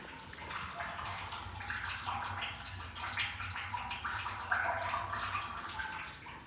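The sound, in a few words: water trickling into septic pump chamber from a leak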